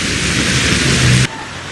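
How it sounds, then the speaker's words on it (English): Heavy monsoonal tropical rain pours in a loud, dense hiss, then cuts off abruptly near the end. "the weather turned tropically foul and brought not only monsoonal rains"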